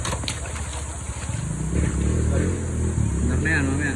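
A motorcycle that was swamped in a river crossing on a San Pablo to Calauan trail sputters and catches. Its engine rumbles close and rough with uneven revs, and people talk nearby.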